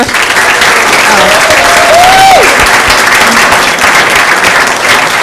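An audience at a Livingston city council meeting breaks into loud, sustained applause and cheering for youth coaches. The clapping is close and continuous throughout, with a brief voice rising above it.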